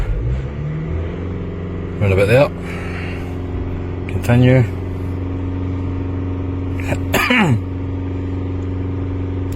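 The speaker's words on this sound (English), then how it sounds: "And then we're going to need to hold the revs again." A car engine idles steadily, then revs up in three short bursts spaced a couple of seconds apart, with a person talking briefly over it.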